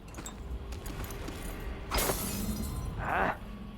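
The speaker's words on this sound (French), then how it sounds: "On aurait dit un bruit de verre cassé." Glass shatters in Dishonored 2, a sharp crash with a bright, scattering tail over a low rumbling game ambience, followed by a second brief tinkling burst. No one is talking.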